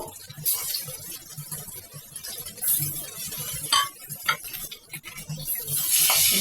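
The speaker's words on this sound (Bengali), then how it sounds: "ভালো করে তেল ছেঁকে নিয়ে আমরা অল্প অল্প করেই মাছ ভাজছি তিন পিস করে" Pieces of katla fish frying in oil a few at a time, a soft sizzle under clinks and scrapes of a utensil turning them in the pan.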